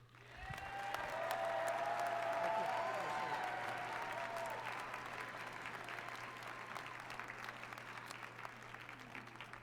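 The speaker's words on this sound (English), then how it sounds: "And please give a Texan welcome to our new commissioner, Commissioner Hurd" Audience applause welcoming a new commissioner at a Texas gathering: a dense, steady burst of clapping from a large crowd that swells in the first few seconds, then holds and slowly eases, with some cheering mixed in.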